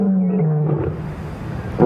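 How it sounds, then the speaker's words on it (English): A lion gives a deep, loud roar, one sustained rumbling call up close lasting nearly two seconds, with no other sounds around it. "The lion doesn't need to purr to get its way, for its roar is one of the most frightening of animal sounds."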